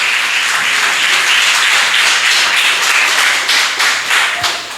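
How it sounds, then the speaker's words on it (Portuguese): A church congregation claps loudly and steadily for Jesus at a Sunday service, dense sustained applause filling the room for several seconds before beginning to thin near the end. "vamos aplaudir o Senhor Jesus"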